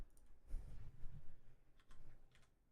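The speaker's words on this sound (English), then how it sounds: "It's gonna take forever to type with one hand." Someone types slowly with one hand on a computer keyboard, making faint, scattered key clicks in a quiet room.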